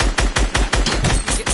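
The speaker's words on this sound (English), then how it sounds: "More shots coming down." Rapid bursts of gunfire in the Fortnite World Cup finals battle royale, about eight sharp shots in a steady, evenly spaced rhythm, loud and close with no voices.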